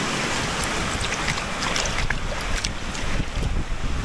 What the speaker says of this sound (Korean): 와, 바람 장난 아니다.